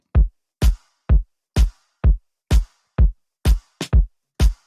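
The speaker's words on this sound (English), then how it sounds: "a snare drum layered with a clap" Crisp snare hits layered with a clap snap alternate with deep kick drum thumps in a steady beat, one quick flam near the end.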